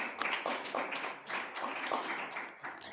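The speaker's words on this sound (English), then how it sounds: "Big round of applause again." Audience applause at a plenary session of an international company secretaries' conference, a steady wash of many hands clapping at moderate distance, with no voices.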